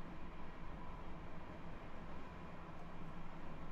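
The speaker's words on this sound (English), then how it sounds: "Which is very efficient, this train." Steady low rumble and rushing roar of a train running at speed in a train simulator, a continuous even drone with no talk, heard from inside the cab at moderate level.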